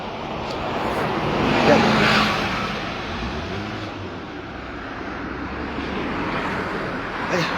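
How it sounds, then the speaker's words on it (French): Buses and general street traffic rumbling past on a city street, a moderate swelling pass-by noise with no clear speech, fading and returning at a middle distance. "Il y a des bus aujourd'hui, hein?"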